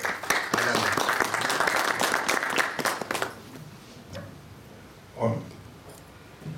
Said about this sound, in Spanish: El cálido aplauso para él, por favor.